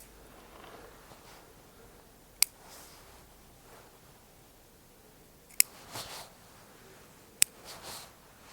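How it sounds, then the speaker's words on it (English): Scissors cutting back buds on a small dwarf spruce bonsai, with three crisp, isolated snips spaced a few seconds apart over a quiet background. "So I'm always trying to spot buds and cut back to the buds if I can."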